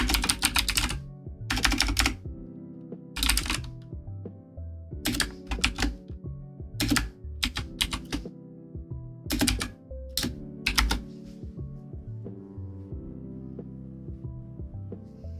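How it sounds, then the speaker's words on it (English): Keys clatter on a computer keyboard in irregular bursts of rapid typing separated by short pauses, close and crisp over a low steady hum, with no voices. "Yes, I also very much enjoy the sound of my keyboard."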